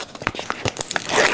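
Plastic film of an easy-open package of ground elk is peeled and torn open by hand, giving a quick run of crinkly rips and snaps that ends in a longer tearing pull, close and fairly loud.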